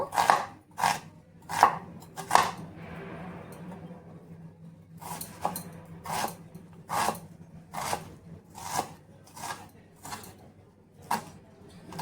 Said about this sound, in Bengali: তো পেঁয়াজটা আমি এখানে কুচি করে নেব।